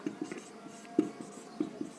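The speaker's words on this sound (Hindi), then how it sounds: "तो यहां पे लिखेंगे" Chalk or marker writing on a board during a physics lesson on lenses, soft scratchy strokes and a few light taps, faint and close with no talking.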